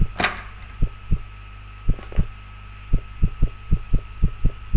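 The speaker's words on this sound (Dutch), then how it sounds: "je hebt al heel onregelmatige hartslag" Game heartbeat effect, loud thumping beats in an uneven rhythm, some paired and some spaced apart, over a low steady hum with no talk.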